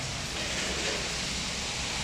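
Steady rain in Tagaytay, a dense, even hiss of falling water that holds constant throughout with no voices.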